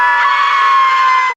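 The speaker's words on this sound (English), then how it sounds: "you could just play that scream anywhere and it'll get a laugh" A loud, sustained high-pitched scream from a TV commercial rings out alone for over a second at steady volume, then cuts off abruptly.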